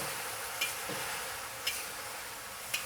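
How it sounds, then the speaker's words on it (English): Beef and scallions stir-fry in a hot wok for Mongolian beef, giving a steady close sizzle with a few faint spatula scrapes and taps and no talk. "I'm going to toss this beef right in here."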